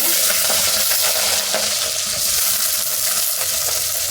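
Four sliced onions hit hot oil for a chicken gravy, a loud, steady sizzle running throughout with a few stirring scrapes and clinks, no voices.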